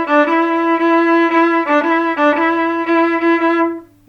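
A viola bows the opening of a song with a swung feel, notes alternating long and shorter in a lilting pattern, played up close and loud before a final sustained note cuts off.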